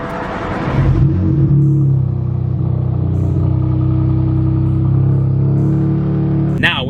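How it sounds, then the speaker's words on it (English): A BMW M4 engine cranks briefly on a cold start, then catches and settles into a loud, steady idle rumble nearby. "first things first for you guys is definitely gonna be a quick cold start"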